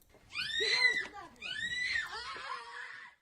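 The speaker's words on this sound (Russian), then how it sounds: "Ну, крики, конечно, жуткие." Shrill, piercing screams from several people during a violent street detention of a woman, loud and continuous in two long bursts with overlapping voices.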